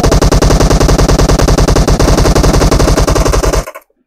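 Automatic gunfire in PUBG Mobile, a loud, close, rapid stream of evenly spaced shots lasting several seconds before cutting off abruptly into silence.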